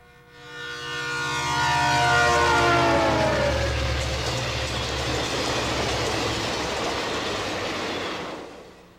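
An FM Trainmaster diesel locomotive passes close and loud, its horn sounding in tones that slide down as it goes by, giving way to a broad rumble and rail noise that fades out at the end.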